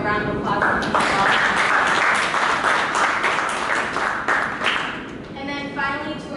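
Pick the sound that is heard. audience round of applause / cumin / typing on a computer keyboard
audience round of applause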